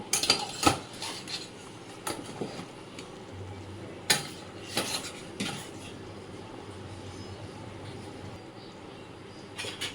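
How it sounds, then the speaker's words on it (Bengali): Pieces of fish and fried eggplant go into a pot of boiling, thin Bengali hilsa curry. Faint bubbling is broken by clinks and knocks of a utensil against the pot, with a low hum in the background. "এর মধ্যে আমি মাছ এবং ভেজে রাখা বেগুনটা দিয়ে দিলাম।"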